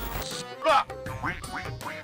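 A duck quacks several times in quick, irregular succession, close and clear, with one louder honking quack in the middle.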